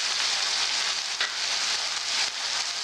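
Chicken curry seasoned with turmeric and coarse salt sizzles steadily in a pan as it is stirred, with an even hiss and a couple of brief scraping strokes.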